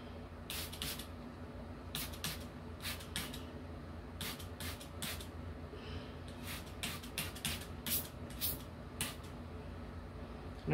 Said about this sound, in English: I'm just gonna spray my solution on it.